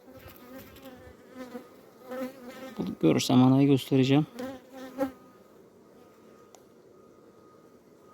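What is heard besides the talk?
honey bees buzzing in an open hive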